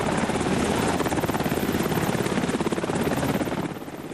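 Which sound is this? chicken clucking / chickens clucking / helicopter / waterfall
helicopter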